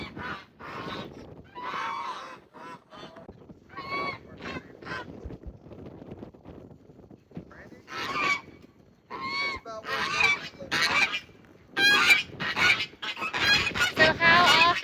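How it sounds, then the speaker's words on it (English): Several geese on a homestead honk loudly and repeatedly in close, overlapping bursts that grow more intense toward the end, with people talking between the calls. "I pray that they are kind, sweet geese."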